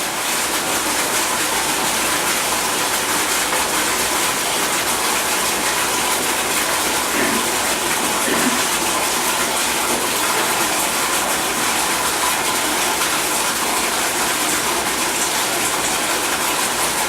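Water pours steadily into a bathtub in a constant, loud gushing rush that holds unchanged throughout, with no voices.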